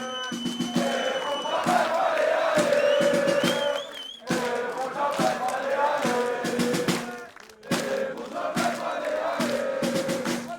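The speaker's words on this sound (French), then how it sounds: "applaudissez les joueurs une dernière fois en vrai." Esports crowd at a Joblife vs Solary match cheering and applauding the players, loud sustained roars and whoops with music playing underneath and brief dips between waves.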